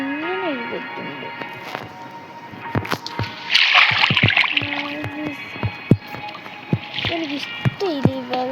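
Splashing through water in the video game Minecraft: bursts of watery splashing, the loudest mid-clip and another near the end, among clicks and tonal game sounds, with a voice heard at times.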